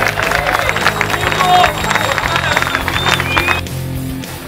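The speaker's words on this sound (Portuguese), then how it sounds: "Vamos aplaudir todos os pilotos aí." A crowd claps and cheers for the drivers at a dirt-track speed race in São José, Paraná, a steady rattle of hands and voices that drops off abruptly near the end.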